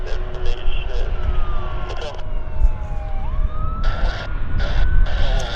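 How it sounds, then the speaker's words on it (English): Emergency vehicle sirens wail and sweep near Vancouver International Airport, their rising and falling tones sounding at moderate distance, mixed with bursts of radio chatter and background airport noise. "Excuse the sirens."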